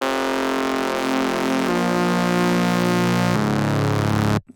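Reese bass synth made from two saw waves fine-tuned close together, giving a smoother, less gritty tone that plays a loud, sustained line stepping through a few notes before cutting off abruptly.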